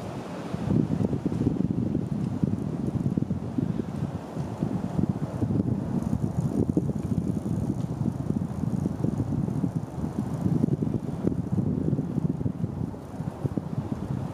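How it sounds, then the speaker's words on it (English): Steady outdoor wind rushing and buffeting the microphone, with a continuous low roar and no distinct snapping of trees audible. "Hear a lot of trees snapping. It's probably because of the wind"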